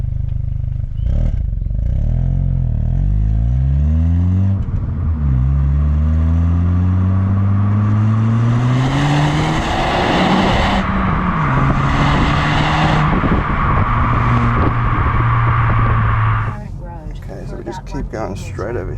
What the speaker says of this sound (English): You can sort of hear this little burble, which is nice.